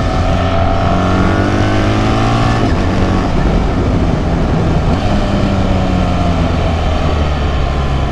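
A BMW R1300 GS motorcycle engine under way at Interlagos, a loud continuous drone with steady harmonic tones that shift in pitch as the bike accelerates, heavy wind rush and no talk.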